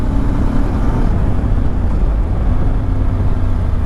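A Voge 625 DSX motorcycle rides a small mountain road, its engine a loud, steady, close drone with wind rush throughout.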